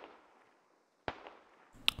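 Gunfire in a military shooter video game, with a single sharp shot ringing out after a near-silent stretch, then another louder crack with a bright high-pitched ping near the end.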